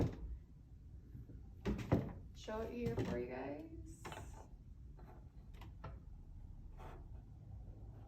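A greased door handle slides back through the door's bolt mechanism, giving close clicks and scraping mechanical clatter while a person talks.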